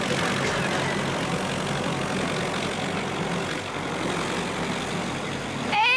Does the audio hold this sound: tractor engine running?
yes